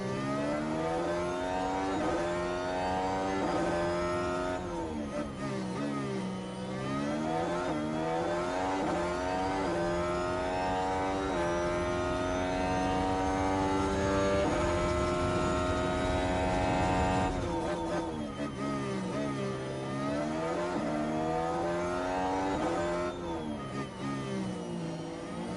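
A Formula 1 car engine in F1 Manager 23 howls through a flying lap, its high whine climbing and dropping through gear shifts, loud and steady throughout.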